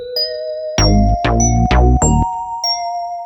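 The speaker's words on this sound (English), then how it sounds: "Next thing, of course, was the bells." Bright bell tones from an FL Studio beat ring out in a short melody with sustained, shimmering notes, while a few heavy low hits land in the middle and the phrase then fades on lingering chimes.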